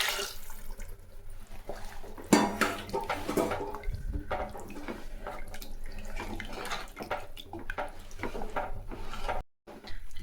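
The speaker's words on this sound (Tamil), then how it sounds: "இப்போ நம்ம அந்த ஜாரு கழுவி வச்சுருக்கிறது தண்ணி ஊற்றிக்கலாம்" Water poured into a freshly washed mixer-grinder jar in a home kitchen while tomato kuzhambu is being made: a steady splashing rush for about ten seconds, with a brief pause near the end.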